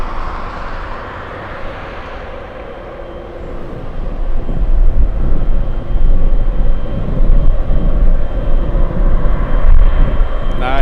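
A Boeing 747 Dreamlifter takes off at Anchorage airport, its broad jet roar steady and loud throughout, swelling further partway through as the engines power up.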